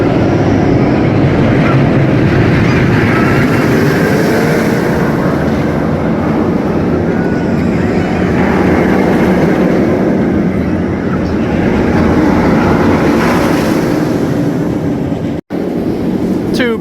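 Medusa roller coaster at Six Flags Great Adventure, ridden from the back row: a loud, continuous rumble of wheels and wind buffeting that rises and falls, with a sudden brief dropout near the end.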